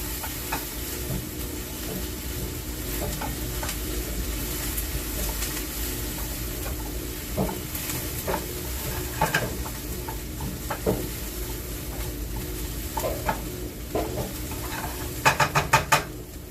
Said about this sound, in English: stir up the onions and garlic. I want to make sure that they don't get burnt